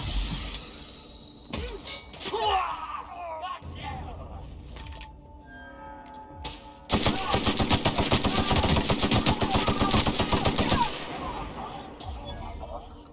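Sustained gunfire in The Outer Worlds on Gorgon: scattered shots and voice in the first seconds, then a dense, loud burst of rapid automatic fire for about four seconds before it drops back.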